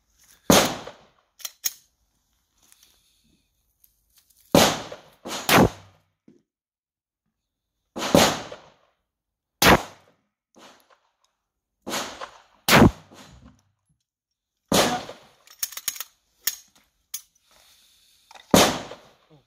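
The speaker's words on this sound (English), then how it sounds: "So two shots there." Loud sharp 9mm pistol shots fired from about 5 m at a Kevlar/Aramid MICH 2000 helmet in a ballistic test, several crisp cracks spaced a few seconds apart, each with a short tail, no talking.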